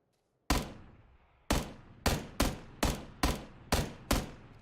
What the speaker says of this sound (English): I'm a little surprised that those subsequent shots didn't at least hit one more time